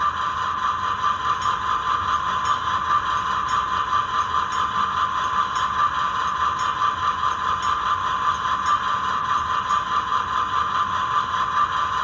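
A Scaletrains Santa Fe C44-9W model diesel locomotive idles, giving a steady mechanical hum with a faint regular rattle that holds even and unchanging throughout.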